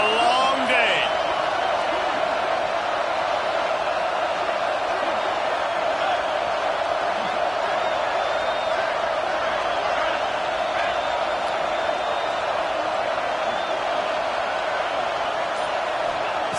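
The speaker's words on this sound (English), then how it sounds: "This crowd, full throat, splitting the eardrums and letting them know it's going to be a long day." A college football stadium crowd roars at full throat on a third down, producing a dense, unbroken wall of noise that holds steady and loud from start to finish.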